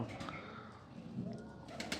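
Pigeons coo softly in low, throaty bursts across a couple of seconds, with faint background rustling and a steady low hum.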